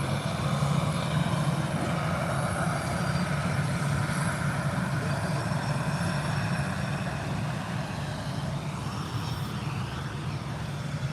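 A passenger jet departing Birmingham Airport on a close-up takeoff, a loud, steady engine roar with broadband rumble that holds throughout without any pause.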